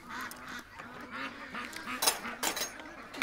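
Several Canada geese honk in the distance near a creek, irregular and overlapping, with faint background noise throughout.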